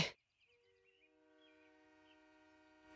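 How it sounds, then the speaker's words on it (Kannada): An oncoming train sounds a loud, sustained multi-tone horn that holds steady for several seconds after a sharp opening burst, with no voices. "ಸರ್ ಟ್ರೈನ್ ಇಲ್ಲಿಗೆ ಬರ್ತಾ ಇರುತ್ತೆ."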